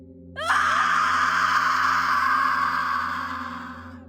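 A woman lets out one long, loud, piercing scream that bursts in sharply after a short quiet start and holds steady for several seconds before slowly fading.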